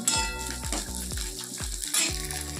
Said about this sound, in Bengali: পাঁচফোড়ন, শুকনো লঙ্কা দিয়ে একটু পেঁয়াজ দিয়ে ডালটা ছকবো।